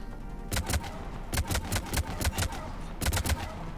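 Bursts of gunfire in a Mass Effect 3 cutscene, several short volleys of sharp rapid shots separated by brief pauses over a low background rumble.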